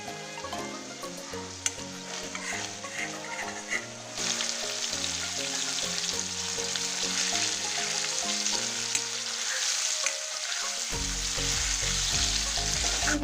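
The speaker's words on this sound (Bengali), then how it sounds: "দুদিকে লাল লাল করে হালকা করে ভেজে নিয়েছি।" Paneer pieces fry in hot oil in a pan, giving a steady close sizzle that runs through the clip, with melodic background music playing throughout.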